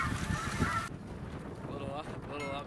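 Snow geese honk at a pasture pond in a cluster of loud, close calls, then quieter scattered honks follow under wind noise.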